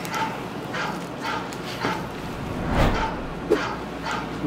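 A phone ringtone playing a song sounds out with rhythmic dog-bark 'woof' samples repeating in a steady pattern, moderately loud and heard over a background hum.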